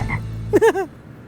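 A frog gives a short burst of three or four close, loud croaks that follow a low rumbling tone, and then the sound goes quiet.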